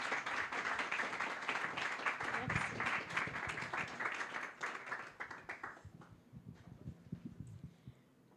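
An audience applauds to welcome a speaker at a talk on citizen involvement in the circular economy, a dense round of clapping that thins out and gives way to a voice starting to speak.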